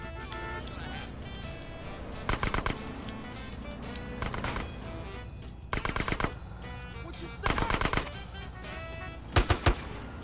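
Gunfire in the video game GTA: San Andreas, several short bursts of rapid automatic shots spread across the scene over a busy game soundscape, with a voice talking quietly in between.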